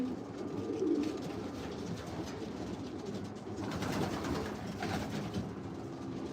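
Pigeons coo in the outside aviary of a loft, soft low rolling calls repeating under a steady wash of outdoor background noise, moderately near with no talking.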